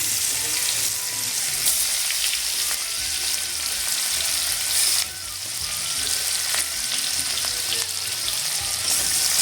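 Onions fry with whole cumin seeds in hot oil while cooking fish head with okra, a constant close crackling sizzle with occasional louder spits and a few brief clinks and stirring scrapes.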